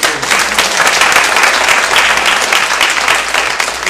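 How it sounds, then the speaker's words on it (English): A roundtable audience bursts into loud, sustained clapping, dense and even from start to finish, close and filling the room without speech. "So I want to give her special applause"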